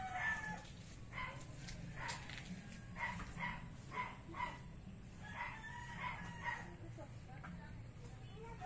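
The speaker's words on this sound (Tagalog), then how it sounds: "Daming aso, matunog." Dogs bark repeatedly in short bursts at mid distance outdoors in a Philippine neighbourhood, with a rooster crowing among them and someone talking at moments.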